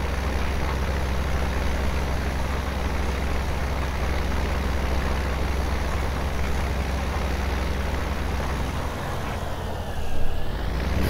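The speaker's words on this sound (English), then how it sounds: "I love how the old tractors bounce about in the mud." Old tractor in Farming Simulator 17 driving through mud on a farm field, a steady, loud low engine drone that holds throughout with a slight rise near the end.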